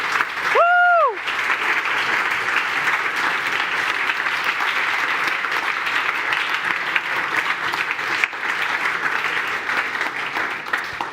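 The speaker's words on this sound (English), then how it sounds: "let's give them a round of applause, please" A large audience claps steadily for the mentors at Climathon Bratislava 2024, a dense, sustained round of applause lasting throughout, opening with a brief whoop or whistle.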